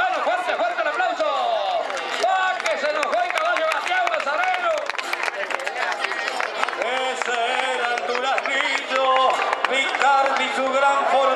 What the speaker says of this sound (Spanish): es Javier, bueno, fuerte el aplauso